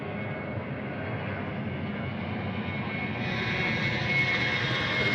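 A Vietnam Airlines jet airliner rolls for departure on runway 34 left at Sydney Airport, its engines a broad, steady roar heard from a distance that slowly swells in loudness.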